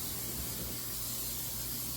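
Cooking spray hisses steadily onto a loaf pan for zucchini bread, a continuous, fairly soft aerosol spray lasting about two seconds with no one speaking.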